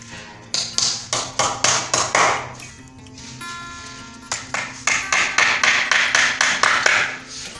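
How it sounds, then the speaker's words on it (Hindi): Nails are hammered into a PVC wall panel sheet in two quick bursts of sharp, evenly spaced taps, about seven to ten each, separated by a short pause. The sound is close and loud. "तो हम डायरेक्ट कील लगाएंगे क्योंकि कील लगाने से इसकी मजबूती हो जाती है"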